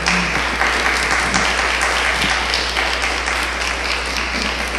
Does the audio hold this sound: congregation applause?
yes